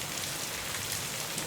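Steady rain falls without a break in a rural village during a long monsoon spell, a close, even hiss of drops on surfaces with no voices.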